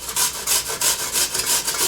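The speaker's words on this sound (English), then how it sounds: "And I'm going to use this side, large grate side, and I'm going to shred all these potatoes." Potatoes being shredded by hand on the large-hole side of a box grater, a steady rhythm of rough rasping strokes about four per second, close and loud with no talk.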